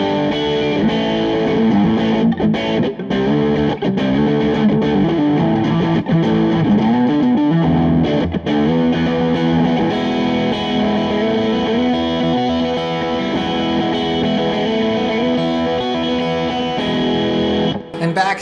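A Minarik Samhain electric guitar plays through heavy distortion on its middle pickup, thick sustained chords and riffs ringing continuously and loud for the whole stretch, with no talking.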